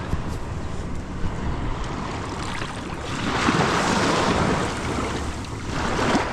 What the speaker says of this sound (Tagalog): Pakita yung dagat.